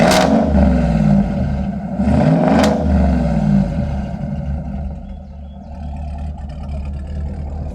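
Chevy Silverado truck exhaust rumbling deep and loud as the engine revs twice in quick surges, then settling into a steady burbling idle, close by with no talk.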